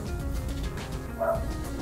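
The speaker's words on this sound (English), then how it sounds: "Sorry for the dogs." Dogs barking indoors, several short yips and bow-wow barks rising briefly over a low background hum, moderately close and fairly loud.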